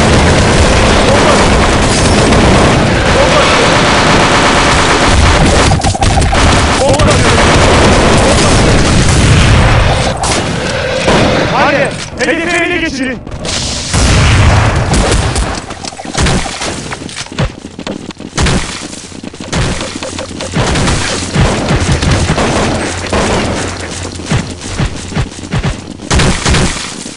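Bomb explosions in the game CS 1.6 Zombie Escape on a train map, a long, loud, dense barrage of booming blasts and rumbling gunfire that barely lets up, with a brief whining tone partway through.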